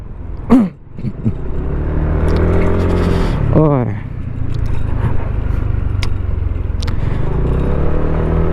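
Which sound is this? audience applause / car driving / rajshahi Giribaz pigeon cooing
car driving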